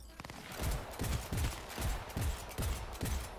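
Rapid gunfire in the game Cyberpunk 2077 comes as a string of sharp, loud shots at an irregular pace, roughly seven or eight bursts over a few seconds, heard up close.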